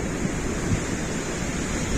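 Sea waves washing onto the shore during a seaside fishing outing, heard as a steady, full hiss of surf close by with no pauses.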